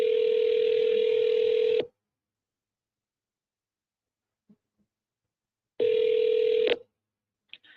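A telephone call being placed: a steady ringback tone sounds for about two seconds, followed by a long silence and a second shorter ring, with faint clicks at the end.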